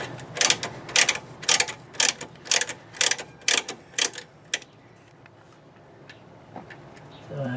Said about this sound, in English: Now I'm loosening up the U-bolts for the aftermarket sway bar that I installed years ago.